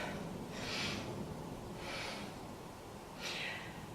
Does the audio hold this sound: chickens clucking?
no